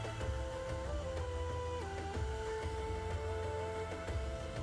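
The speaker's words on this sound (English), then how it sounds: "To finish blow drying the bob, to the top area." A hair dryer blows steadily while a bob haircut is dried with a round brush, its motor whine holding a continuous loud drone whose pitch shifts slightly a few times.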